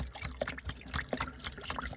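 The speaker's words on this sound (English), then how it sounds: "So we're going to pour this down in that hole" Pink antifreeze poured into an inboard boat engine for winterizing, an irregular close trickle and splash with small gurgles over about two seconds, no speech.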